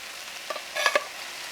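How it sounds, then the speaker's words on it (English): Fried rice hit with butter chicken juice in a hot pan, a few quick stirring scrapes and short bursts of sizzling, close and fairly faint, with no talk. "You hear how deeper that is sizzling now, everybody, with that juice?"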